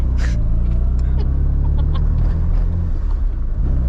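A 1987 Mazda FC RX-7 rotary engine idling roughly up close, a heavy low uneven rumble running continuously with faint higher rattles above it.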